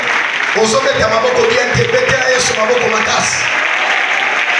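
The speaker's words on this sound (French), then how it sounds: "Est-ce qu'on peut acclamer pour tous nos leaders?" Church congregation applauding its leaders during a worship service, sustained loud clapping from a crowd for several seconds with a voice speaking over it.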